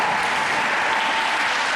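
Kellenberg's bench clapping during a tied men's high school volleyball match against St. Francis Prep, heard as a loud, dense, continuous wash of applause filling the gym.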